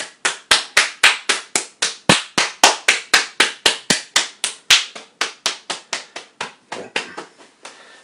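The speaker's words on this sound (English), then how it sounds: "Pump clapping." Open-palmed pump clapping on the body during a bodywork session, a long run of sharp, evenly spaced slaps close by, about three or four per second, slowing and softening toward the end.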